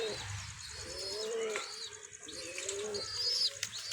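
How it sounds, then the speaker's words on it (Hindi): Pigeons coo nearby in soft repeated calls, with scattered chirps and a light background of other birds throughout. "आज 10 कबूतर उड़ाए हुए हैं"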